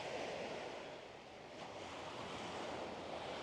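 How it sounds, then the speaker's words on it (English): Ocean surf washing ashore near the cafes of Devonport village in Auckland, a steady broadband roar of breaking waves with wind noise on the microphone, continuous and fairly close, with no voices. "listen to the waves"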